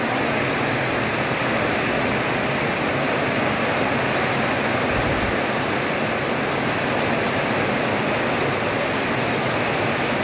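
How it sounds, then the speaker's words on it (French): Typhoon wind roars continuously around a house, a dense, loud, unbroken rushing noise that stays steady throughout with no voices. "le vent traverse la maison."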